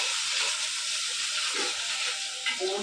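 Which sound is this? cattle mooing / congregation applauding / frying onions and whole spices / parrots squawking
frying onions and whole spices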